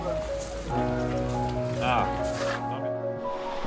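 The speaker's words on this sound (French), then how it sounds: "rien qu'à entendre la pluie qui tombe sur le partenaire" Rain patters steadily on a car roof and windows, a dense hiss beneath voices talking, with a brief musical chime sliding through the middle.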